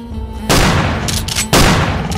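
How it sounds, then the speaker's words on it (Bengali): Two blank gunshots ring out in a cartoon jungle scene: two loud, sharp bangs about a second apart, each trailing off into a short, noisy decay. "আগে দুটো ফাঁকা গুলি ছোড়ো তো।"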